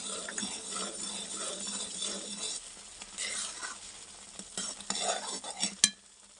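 A spoon stirs semolina halwa with raisins in a pan, giving a soft continuous scraping and light sizzling, close and steady, ending in a sharper clink near the end with no talk.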